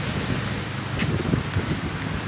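Strong wind blows outdoors on an island, a loud, constant low rumble of gusts buffeting the microphone with faint rustling underneath and no talking.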